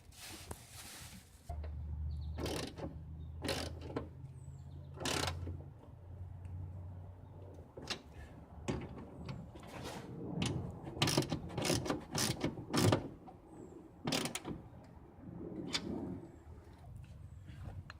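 BMW E46 rear window regulator motor running: a low mechanical hum and grinding for several seconds, followed by scattered clicks, ratcheting and handling clunks up close.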